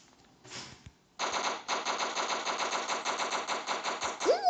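Rapid automatic gunfire in the blocky first-person shooter Block Strike, sustained bursts that run nearly unbroken for several seconds after a short lead-in shot, loud and close with no talk over them.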